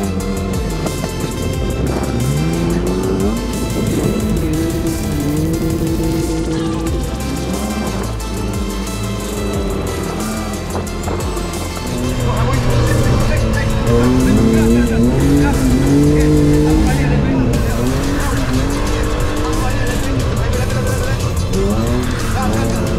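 A 240 hp BMW E36 drifts sideways, its loud engine droning and rising in pitch while tyres squeal. A voice talks over the car throughout.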